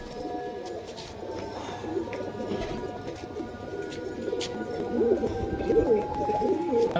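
High-flyer Pakistani pigeons at a home loft cooing repeatedly, soft rolling calls close by over a low background hum, growing slightly louder toward the end.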